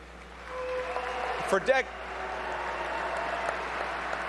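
Audience at a firefighters union conference giving steady, moderate applause in a large room, with a voice briefly cutting through midway.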